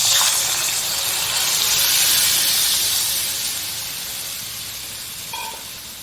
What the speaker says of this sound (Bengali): এই মশলা দিয়েই সঙ্গে সঙ্গে জল দিয়ে দিতে হবে